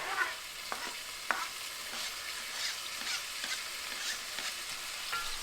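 Carrots and celery sauté in hot oil in a pan, a soft, steady sizzle broken by light stirring scrapes, fairly quiet and without any talking.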